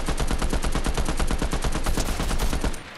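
Rapid automatic gunfire from a high-recoil weapon in a video game, a fast continuous burst of sharp shots in a tight rhythm, loud and close, cutting off just before the end.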